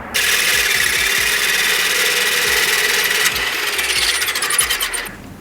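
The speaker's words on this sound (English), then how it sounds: "So I need to drill down at an angle" A power drill bores at an angle into a brick wall near a pillar, a loud continuous grinding whine lasting about five seconds with a shift in pitch partway through before stopping.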